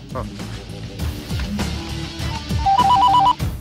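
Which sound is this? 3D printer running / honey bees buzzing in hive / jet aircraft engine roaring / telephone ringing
telephone ringing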